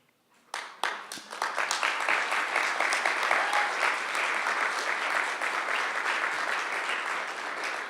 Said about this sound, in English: you applauded them